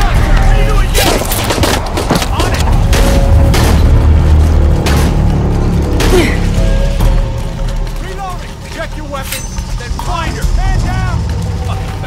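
Gunfire in Shadow of the Tomb Raider during a rainy downpour escape from soldiers: bursts of shots and heavy booms over a steady roar of rain, loud and close, with voices talking in between.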